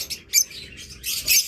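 A pair of creamino opaline budgerigars gives soft, scattered chirps and short calls. Brief bursts of twittering come and go over about a second and a half, faint and close.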